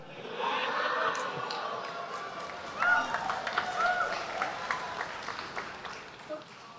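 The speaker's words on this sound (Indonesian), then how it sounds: "saya 1-0 dapat tepuk tangan Pak barusan" An audience claps during a public question-and-answer session with a politician. The applause is steady and moderately loud, with voices mixed into it.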